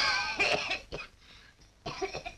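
A few sharp coughs close by, one short burst after another, then a pause and a final rough cough.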